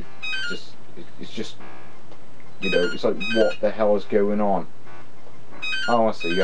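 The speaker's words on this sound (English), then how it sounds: "I do apologise for that annoying phone ringing" Telephone ringing during Game Boy Color gameplay, with a repeated high, harmonic ring in short bursts at the start and end, partly under someone talking in the middle.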